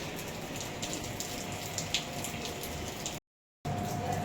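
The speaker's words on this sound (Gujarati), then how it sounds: "વરસાદ તો ચાલુ જ છે, પણ હમણાં બંધ થઈ જશે" Steady rain hisses continuously, a dense, even patter with a brief silent gap near the end.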